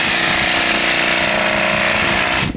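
A power sander fitted with coarse 40 grit paper grinds across wet wood deck boards, a loud, steady, unbroken roar held close to the microphone for the whole stretch before cutting off abruptly.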